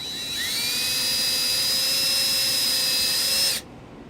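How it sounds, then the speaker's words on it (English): A power drill whines at high pitch as it bores a 3/32 pilot hole through a panel on a 2018 Dodge Journey, a single steady run of about three and a half seconds that stops sharply. "we're going to drill a 3/32 pilot hole in this spot"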